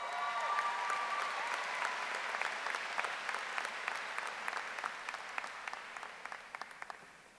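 Applause from a high school graduation audience for graduates, a sustained wash of clapping that slowly tapers, with individual claps standing out as it thins.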